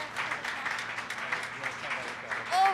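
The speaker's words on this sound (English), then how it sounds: "let's give Heather a big round of applause" A crowd claps steadily in a dense, even patter of applause that holds for a few seconds, with a faint voice near the end.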